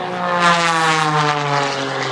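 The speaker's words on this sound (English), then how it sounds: "Look at the roll rate of that airplane as he snap rolls it, climbing on that 45-degree up line." An MX2 aerobatic propeller plane performing a torque roll at an airshow drones loudly and steadily, its engine and prop giving a strong buzzing tone with many harmonics that shifts slightly in pitch as it passes.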